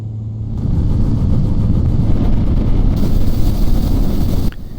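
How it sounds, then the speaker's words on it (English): Spacecraft vertical engines in the Final Orbit game firing during a controlled descent, a loud, steady low rumbling roar that cuts off abruptly near the end. "Now I'm switching to vertical engines to control the descent."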